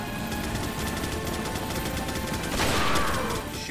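Gunfire from the Resident Evil 4 video game rattles in a dense, continuous burst of rapid shots, loud and close, swelling toward the end.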